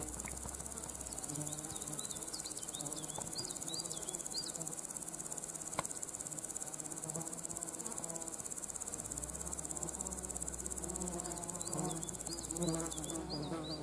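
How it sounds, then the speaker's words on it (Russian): Dense grasshopper chirping and buzzing fills the air continuously, with small birds twittering now and then in the background; a warm outdoor village ambience on a hot day, no talking. "Кузнечики, птички."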